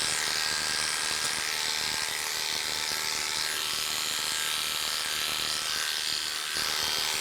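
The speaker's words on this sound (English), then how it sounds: "I'm still clipping the way the hair grows" Electric clippers trim a dog named Toby's coat, clipping with the direction of hair growth, giving a steady, close, unbroken buzz throughout with slight changes in tone as the blade moves through the fur.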